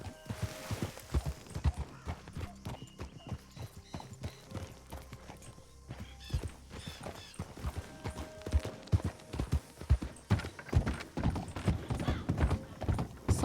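Horse hooves clip-clop steadily across the ground in the Western video game Red Dead Redemption 2, loud and close, a continuous uneven patter with occasional pauses and faint background game sounds.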